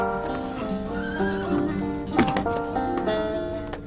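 A horse gives a loud, wavering whinny close by, with hoof clops and shuffling around it, and a voice briefly under the sound.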